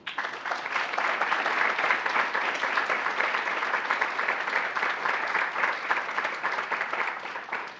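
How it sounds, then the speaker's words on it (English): An audience at an academic honors awards ceremony gives a sustained round of applause, dense, steady clapping that holds at an even loudness for nearly eight seconds before easing slightly at the end. "Would you help me give a round of applause to Fellowship of Christian Athletes and Ashley Jones, please?"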